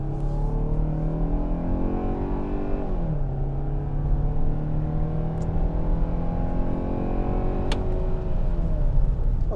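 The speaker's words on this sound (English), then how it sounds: "a lot of, you know, squealing of the tires, that's to be expected" A 2021 Kia Sorento S launches hard from a standstill, its engine note climbing steadily, dropping briefly at an upshift, then rising again, loud and sustained with no talking.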